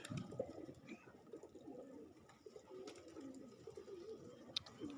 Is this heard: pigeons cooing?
yes